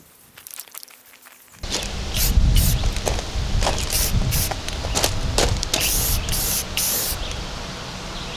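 Close, hissing bursts of spray paint in red, white and blue coat wooden flag pieces, several spurts at an uneven rhythm over a steady noisy rush, after a quiet opening with a few faint knocks.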